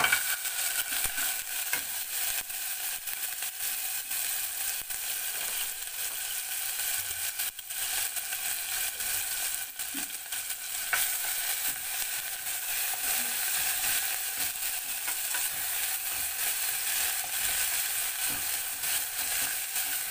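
Tomato sauce frying in oil in a home kitchen pan for koshari, with a steady broadband sizzle throughout and intermittent scraping of a stirring utensil, close and fairly loud, no voices.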